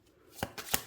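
Tarot cards shuffled and flipped from a deck in a few quick papery riffles and snaps, close and fairly quiet, with no talking.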